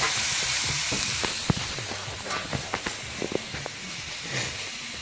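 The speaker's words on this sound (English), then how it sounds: "when it's brown around the sides on the meat, you want to flip it" Salisbury steak patties fry in a pan, a constant close hiss of sizzling fat with scattered sharp pops and spatters breaking through the steady crackle.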